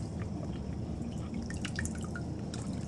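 Water drips and trickles off a large aquarium plant dipped into tank water, with small droplet splashes over a steady background hiss.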